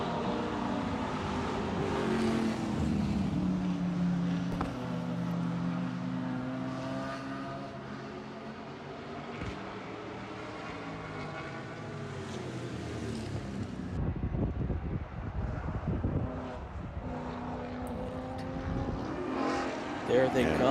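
Race cars at Watkins Glen during an SCCA Hoosier Super Tour race, engines roaring past on track in a sustained loud drone with pitch sweeps as cars approach and pass, a commentator's voice running underneath.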